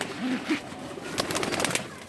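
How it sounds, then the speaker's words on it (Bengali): Pigeons cooing softly a couple of times, followed by a burst of rustling and wing-flapping close by. "এই যে দেখতে পাচ্ছেন অনেক সুন্দর শক্তিশালী কবুতর"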